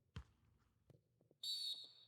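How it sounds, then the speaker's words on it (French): A referee's whistle blows for a foul during a Ligue 1 football match between Olympique de Marseille and Stade Rennais, one sharp shrill blast after a few faint thuds, clear over quiet stadium background. "la faute signalée et sifflée"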